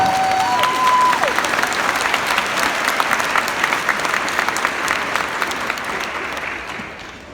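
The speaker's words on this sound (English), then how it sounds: "round of applause." Sustained, dense applause from a high school graduation crowd fills the space for several seconds, steady and loud before gradually tapering, with a faint whistle near the start.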